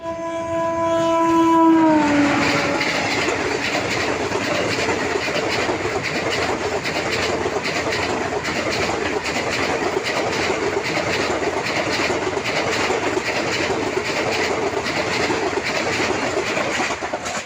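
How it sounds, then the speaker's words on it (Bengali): The Paharia Express passes at speed, opening with a loud, sustained horn blast that cuts off after about two seconds, followed by a steady, close roar and rattle of wheels and carriages rushing by. "কত স্পিডে ট্রেনটা কিন্তু বেরিয়ে গেল"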